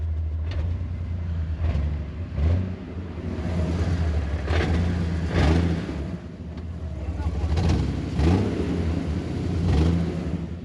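Jeep engine idling rough and choppy with a suspected faulty coil rail, a low uneven rumble that surges and sags every second or two, close and steady throughout.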